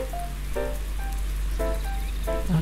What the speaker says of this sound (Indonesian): Okay, ini masih hujan. Belum selesai hujannya.